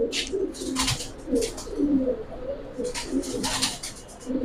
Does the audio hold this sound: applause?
no